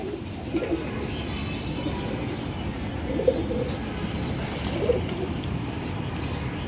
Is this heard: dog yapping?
no